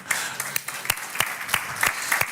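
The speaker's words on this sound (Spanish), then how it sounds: "Ese aplauso es para ese hermano anónimo" A church congregation claps in a brief burst, with sharp, distinct hand claps falling in a loose, uneven rhythm against a soft background of room noise.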